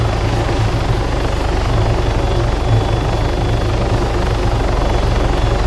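A helicopter in the video game Arma 3 flies and slows to land, its rotor thumping in a loud, steady, rapid chop over a dense engine roar that stays constant throughout, with no speech.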